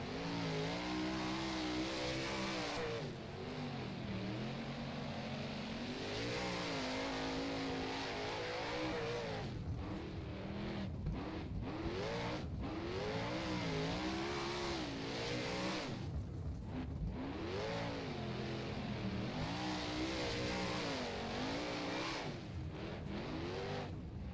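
A 410 sprint car engine in the rFactor racing game at Western Springs speedway revs hard and continuously, with its pitch surging and dropping through throttle changes on every lap.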